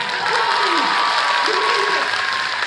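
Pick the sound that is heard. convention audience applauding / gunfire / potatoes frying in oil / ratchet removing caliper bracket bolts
convention audience applauding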